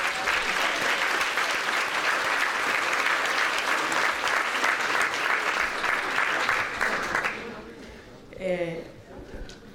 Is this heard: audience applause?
yes